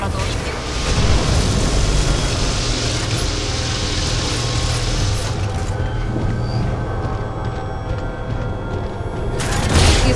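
Heavy game explosion as an enemy titan's core is destroyed in Titanfall 2, a broad roaring rumble with mechanical clatter sustained for several seconds, then tailing off before a fresh burst near the end, with voices over it.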